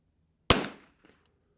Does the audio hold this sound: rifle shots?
yes